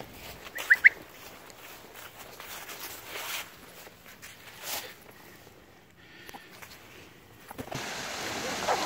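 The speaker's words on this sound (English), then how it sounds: "Here's Yeager's happy sound" A pet mink gives its happy sound, a brief pair of soft chirping clucks near the start, followed by a faint, quiet room with light movement noise.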